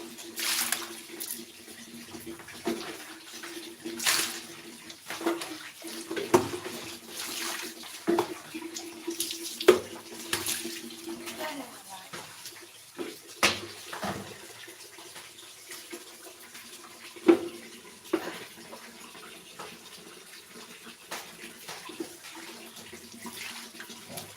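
Tap water runs steadily into a kitchen sink while raw chicken is rinsed, with intermittent splashes and clunks of handling over the continuous flow.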